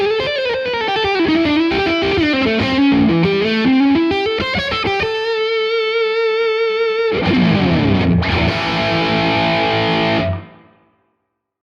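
Electric guitar on the neck pickup through a Tonex overdrive tone model, a loud distorted run of rapid notes and bends followed by a thick sustained chord that stops abruptly near the end, with no voice over it.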